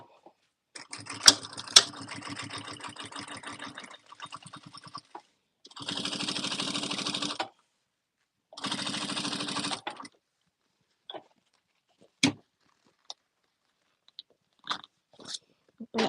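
Sewing machine stitching down a bag lining, several close bursts of rapid mechanical needle clatter lasting a few seconds each, separated by silence and followed by short clicks and handling taps.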